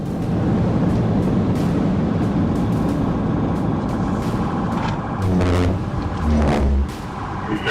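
Car engine roars during a high-speed police chase, with the vehicle driving against oncoming interstate traffic; a loud continuous road and engine drone with a rising rev surge and passing vehicle noise near the end, no voices.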